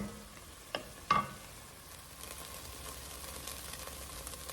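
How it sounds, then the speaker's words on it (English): Onions sauteing in olive oil in a pan make a faint, steady sizzle, broken early by a couple of sharp clanks from a utensil. "I'm going to add a little bit more olive oil in here and start sauteing the onions"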